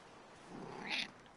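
A single short cat meow, fairly faint, rising briefly over a quiet background in the middle of the Skull and Bones game.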